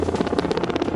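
A military helicopter flying overhead during an army display, its rotor chop a steady, loud, rapid pulsing with broad engine roar and no voices.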